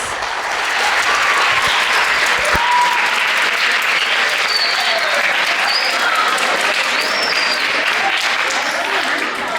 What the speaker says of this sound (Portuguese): Vamos acolher a todos com uma salva de palmas.